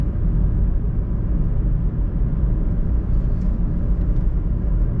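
A small car's engine and road rumble form a steady low drone from inside the vehicle, even in level, with no other sounds standing out.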